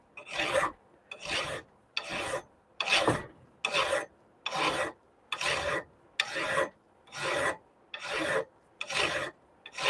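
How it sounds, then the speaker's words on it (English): Hand rasp file pushed over wood in a workshop, about a dozen even rasping strokes in a steady rhythm, close and clear with short pauses between them. "And when you're hand filing, you just want to push."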